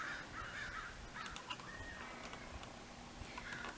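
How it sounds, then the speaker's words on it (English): Several crows caw in short bursts, fairly faint and at a distance, scattered across a quiet outdoor background. "Them crows are being noisy."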